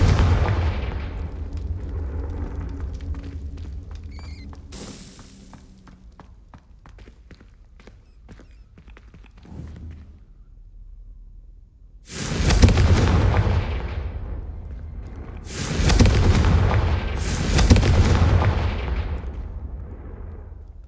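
Confringo fire spells from the Hogwarts Legacy video game burst as loud explosive blasts, three heavy booms in a row after a stretch of quieter crackling and rumbling, with no talking.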